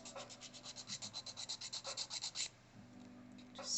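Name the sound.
hand filing acrylic nails with a nail file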